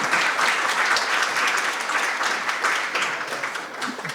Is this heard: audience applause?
yes